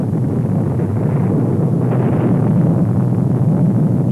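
Archival recording of a 24-kiloton bomb exploding at sea, heard as a loud, continuous low roar and rumble with wind-like noise and no distinct crack, sustained throughout with no voices.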